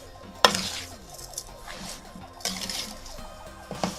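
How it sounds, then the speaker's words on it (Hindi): A spoon scrapes and clinks against a pan while sugar is stirred into thick sabooni halwa, with a sharp metallic knock near the start and irregular clatter and scraping throughout, close and moderately loud. "चीनी डालने के बाद अब चम्मच को बराबर चलाते रहना।"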